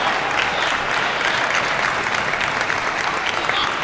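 A crowd at a table tennis semi-final of the 2025 Asian Championships claps and cheers, a dense, steady roar of applause filling the whole moment with commentary talk faintly beneath.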